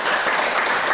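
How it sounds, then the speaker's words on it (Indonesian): Loud, dense audience applause fills a hall at a talk, steady and close throughout the short burst, with no voices over it. "Tepuk tangan dulu buat sekalian."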